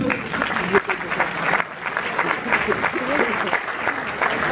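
An audience at a film festival Q&A claps steadily and densely for several seconds, a sustained wash of applause with some voices mixed in.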